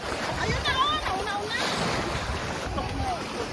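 Strong ocean waves crash and surge continuously in the Philippines, loud and close, with wind buffeting the microphone and faint voices calling out.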